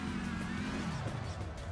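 Video-game car engine in Trackmania reversing, a steady droning motor hum with a low tone that drops partway through, continuous and fairly close with no talk.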